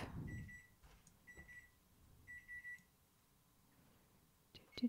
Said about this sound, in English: Sorry for the alarm on our stove.